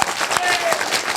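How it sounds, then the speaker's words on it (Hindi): A crowd at a local political gathering for a Rohtak ward councillor in Haryana applauds in a loud, dense burst of hand-clapping, with a voice carrying over it in this brief moment. "ये तालियां बजा दीजिए जबरदस्त"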